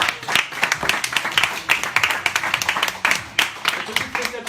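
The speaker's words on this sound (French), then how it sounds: "On peut applaudir là" Audience claps for a footstyle freestyle football trick performed in a low-ceilinged office, bursts of close, sharp clapping with voices talking and cheering over it.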